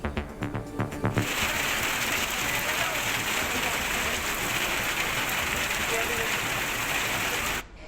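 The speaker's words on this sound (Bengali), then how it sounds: "সিলেট মৌলভীবাজার ও নেত্রকোনায় স্বস্তির বৃষ্টি" Steady rain falling in Sylhet, Moulvibazar and Netrokona in Bangladesh, a dense, even hiss that fills the scene after a brief opening of other sound and holds at a constant loudness until it cuts off near the end.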